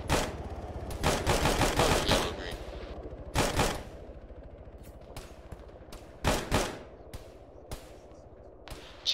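Gunfire from the military video game Arma rings out in short loud bursts and single cracks, some close and heavy, others fainter and farther off, with quiet stretches between volleys.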